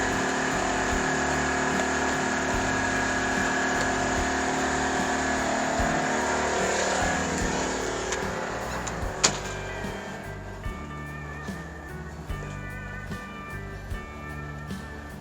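A TackLife portable generator runs with a steady engine drone, settling into a lower, even hum partway through as an air conditioner load comes on, with occasional small clicks.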